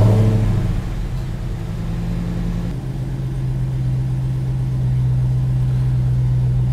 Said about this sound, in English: It's kind of doing a little bit of a misfire here at idle